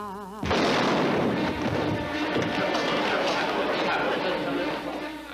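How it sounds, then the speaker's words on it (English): A film-trailer gunshot erupts loudly after a brief snatch of music, then dense crackling action noise and commotion carry on, with voices mixed into the busy din. "You're right, that was a gunshot you heard"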